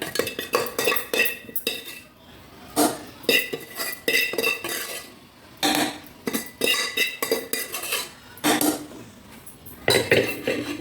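Gravy goes into a pot of beef mandi amid repeated clanks and scrapes of a metal spoon against the pot, in uneven bursts with short pauses.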